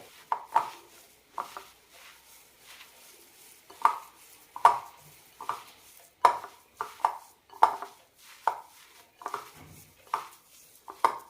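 Soya chunk ball mixture being mixed by hand or spoon in a bowl, a series of regular soft knocks and squelches about every second, close and fairly quiet, with no talking.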